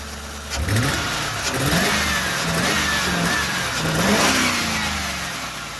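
A 2004 Ford Crown Victoria Police Interceptor with its mass airflow sensor unplugged cranks and fires up, its engine revving up loudly and then settling into a steady idle with a couple of swells in revs, close by and with no talking.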